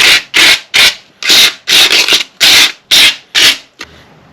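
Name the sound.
sanding Porsche Boxster car parts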